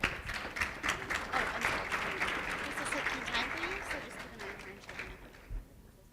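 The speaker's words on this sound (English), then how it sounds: "let's give some applause to the presenters" An audience applauding presenters at a college event, a dense run of clapping that holds steady then gradually thins and fades, with voices talking faintly underneath.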